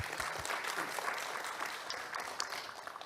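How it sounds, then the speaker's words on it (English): An audience at the Global Spectrum Management Forum 2023 claps steadily. The dense applause fills the room at a moderate level for a few seconds. "so let us give him a big applause"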